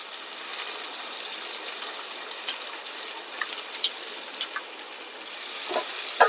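Curry leaves and onions frying in hot oil in a pan for a jackfruit seed curry, a steady close sizzle with a few light crackles and stirring clinks toward the end, with no talk.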